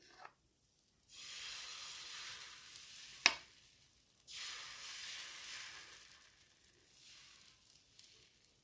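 Batter hitting a hot oiled pan sizzles in bursts, each loud hiss fading out before a sharp clink and then another pour, close up and with no talking.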